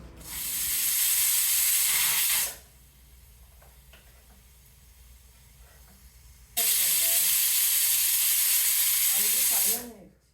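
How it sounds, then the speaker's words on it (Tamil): Two loud, sustained hissing steam whistle blasts from a pressure cooker cooking urad dal rice, each lasting a couple of seconds, separated by a quieter stretch with faint clicks and low background noise. "குக்கரை மூடி ஒரு 4 இல்லை 5 விசில் வந்ததுக்கப்புறம் அடுப்பை ஆஃப் பண்ணிடலாம்"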